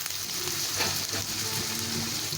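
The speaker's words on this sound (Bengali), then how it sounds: "এখন আমি আলুগুলো ভেজে নেব।" Potatoes fry in a pan for a banana-blossom dish, a close, continuous hissing sizzle with a slightly watery, bubbling texture throughout the short stretch.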